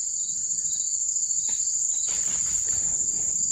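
Dense, loud chorus of crickets trilling continuously in a quiet forest at night, a steady high ring filling the whole stretch with faint rustling beneath.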